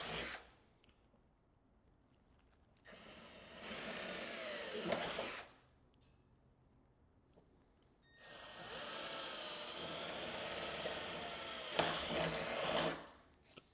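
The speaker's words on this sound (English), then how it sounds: "now I'm just going to open it up and I'm going to drill these holes" A power drill bores holes into a Harley-Davidson CVO Tour Pak to fit speaker pods, running in two long bursts, a shorter one then a longer steady whine, with quiet pauses between and a few knocks near the end.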